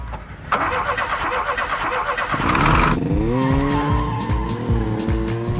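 An auto rickshaw ride through New Delhi traffic, with a continuous rattling engine drone, revving and tire squeals, and busy street noise around it, loud and close.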